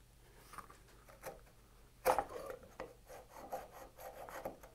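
A dull shoulder plane cutting a wooden half lap joint for a window, making quiet, scraping rasps in short irregular strokes, with one stronger stroke in the middle.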